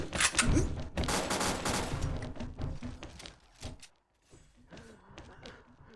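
AK5-A rifle fire in a first-person shooter game: loud, close bursts of rapid automatic shots over the first few seconds, then a brief lull and lighter scattered firing, with faint voice under it.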